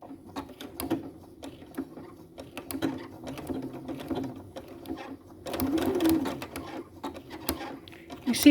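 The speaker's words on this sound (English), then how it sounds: "Stitch, stitch, stitch, stitch, zigzag, just to catch that." A sewing machine zigzag stitches the hem of a skirt, running in short bursts of rapid, close mechanical ticking that pause and restart, with the speaker talking over it.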